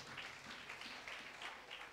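An audience claps together during a Telugu church sermon on the Book of Revelation, a faint, steady wash of applause with small swells, heard from a distance.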